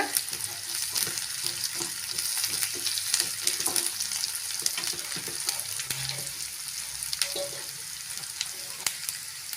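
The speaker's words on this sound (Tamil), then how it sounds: "வெங்காயம் நல்லா ப்ரௌன் கலரில் வதங்கட்டும் கருவேப்பிலை ஒரு கொத்து சேர்த்துக்கலாம் வதக்கி விட்டுக்கோங்க" Onions and curry leaves sauté in a pan for broccoli poriyal, giving a steady, close frying sizzle broken by repeated scraping stirs throughout.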